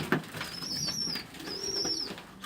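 Pigeons, yellow-eyed birds with some Turkish takla mixed among local stock in Dushanbe, Tajikistan, give soft cooing with a rustle of flapping wings and a thin whistling wing sound twice, steady and close, with no talk.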